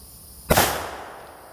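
Single gunshot during outdoor target practice, a sharp loud crack followed by a brief fading echo, alone with no talk.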